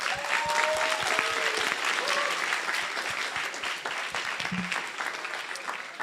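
Audience applause at the grand finale of an international physicists' tournament, dense steady clapping filling the whole clip with scattered sharp individual claps and faint voices underneath.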